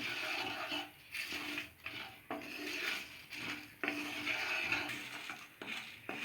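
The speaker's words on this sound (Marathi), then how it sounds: "मेथीचे दाणे, हे पण व्यवस्थित आता ह्याच्यामध्ये भाजून घेऊया।" Fenugreek seeds dry roasting in a pan for homemade goda masala, a spatula scraping and clattering the seeds around in repeated close strokes with brief gaps, with no talking.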